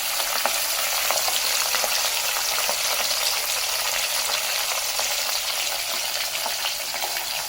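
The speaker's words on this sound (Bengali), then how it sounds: "মাছে লবণ হলুদ মেখে ভালো করে ভেজে নেব" Hilsa pieces rubbed with salt and turmeric fry in white oil in a kadai, giving a loud, close, continuous sizzle with fine crackles throughout and no talking.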